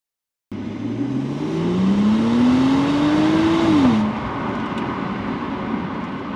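A 2025 BMW 550e xDrive plug-in hybrid drives on the road with steady tire and road roar. The engine note climbs smoothly for a few seconds, then drops back and settles into a constant cruising hum.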